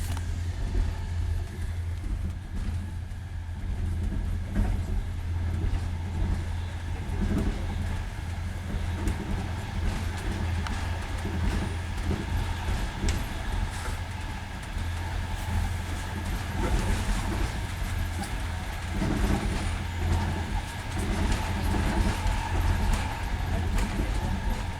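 Steady low rumble and rattling inside a Russian passenger train travelling from Moscow to Saint Petersburg in the evening, a continuous close drone with faint clatter throughout.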